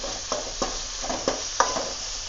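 Chopped tomatoes stirred into a hot frying pan for a cabbage gravy, giving a soft steady sizzle with several distinct scraping stirs of a spoon at a regular pace, close and alone.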